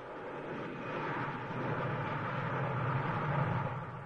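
An Ilyushin Il-76 heavy transport aircraft roars with a steady, broad engine drone that swells slightly toward the end, loud and continuous with no speech.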